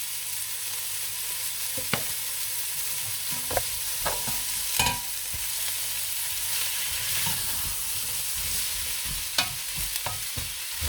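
Chickpea curry ingredients stir-fry in hot oil in a pan, giving a steady bright sizzle broken by sharp scrapes and knocks of stirring, close by and with no voices.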